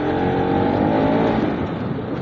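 A Bajaj Pulsar RS200 motorcycle exhaust revs on a city street in Jodhpur, a loud, close, steady engine drone with a slight rise and fall in pitch.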